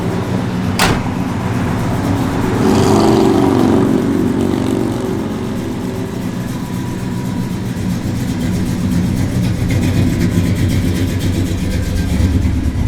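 A 1957 Chevrolet Bel Air engine runs steadily at a loud, close idle with a low, even rumble, and a sharp click comes near the start.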